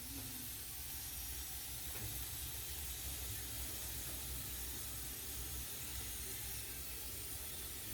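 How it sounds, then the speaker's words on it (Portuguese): Gyoza dumplings frying in a pan until a crust forms underneath, giving a steady, even sizzling hiss that fills the whole stretch without a break, with no voices over it. "Agora a gente espera fritar até criar uma crostinha embaixo."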